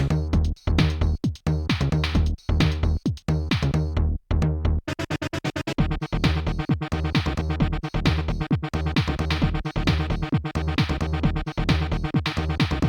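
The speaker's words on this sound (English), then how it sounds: "late 90s-ish dance music." Upbeat late-1990s-style electronic dance music from a video game soundtrack, with a driving four-on-the-floor beat and pulsing synths, plays continuously, loud and unbroken.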